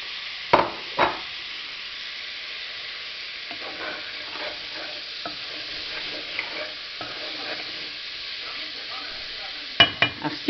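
Tomatoes going into a pot of stewing lečo with sausage, stirred with a utensil: a couple of sharp knocks, then scraping stirs over a soft steady sizzle, ending with a few more clunks against the pot.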